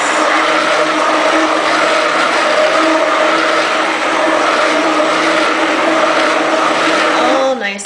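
An electric stick blender whirs steadily and loudly, mixing clay into oils for a strawberry cold process soap batter. The motor tone holds even and continuous for several seconds, then winds down abruptly at the end.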